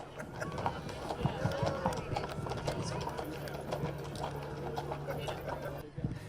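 Big Friesian horses clip-clop along a holiday parade route in Laguna Niguel, a dense irregular patter of hooves close by, with voices talking over the crowd noise.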